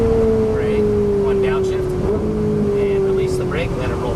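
Ferrari 458 Italia engine droning steadily on a track, heard from inside the car as a sustained engine tone that dips slightly in pitch, with a voice talking over it.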